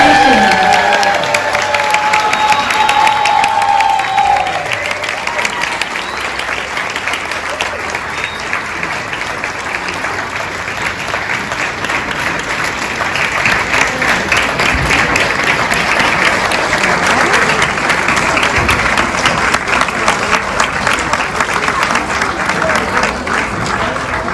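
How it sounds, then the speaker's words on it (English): A graduation ceremony audience in Sydney, Australia gives a long, loud, continuous round of applause with some cheering mixed into the dense clapping, and a voice is briefly audible near the start. "let's all give them one big round of applause"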